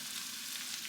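Ackee sizzles and fries in a hot pot, a steady, dense crackling hiss that holds evenly throughout with no voices over it.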